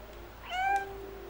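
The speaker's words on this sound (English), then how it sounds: "So meow close to that one." A cat in the video game Stray gives a single rising meow, clear and fairly close, over a quiet steady game background hum.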